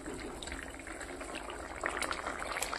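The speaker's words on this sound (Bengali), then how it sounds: "আর এদিকে দুধটা বসিয়ে দিয়েছি," Milk heating in a pot on a home stove gives a soft, steady bubbling simmer, faint and continuous, growing slightly livelier near the end.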